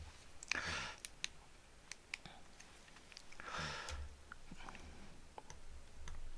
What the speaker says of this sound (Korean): 컨트롤 키 반쌍점을 눌러주세요